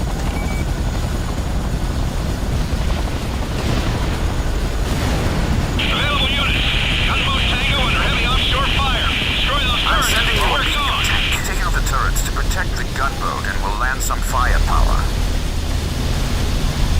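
Enemy aircraft roar through a Command & Conquer: Renegade battle as a steady, loud helicopter-like drone mixed with blasts and noise, with a voice talking over it.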